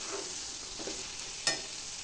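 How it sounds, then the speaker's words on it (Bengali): Green chilli pickle sautéing in a pan with white mustard and ginger: a faint, steady sizzle with a couple of light stirring scrapes and one small click, no voices. "এই সর্ষে আর আদা দিয়ে আর কিছুক্ষণ কষিয়ে তারপরে"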